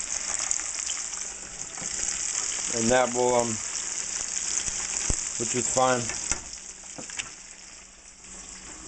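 Homemade French fry potatoes crowd an overloaded pan of hot oil, a constant bright sizzle and bubbling that runs throughout while someone speaks briefly twice over it.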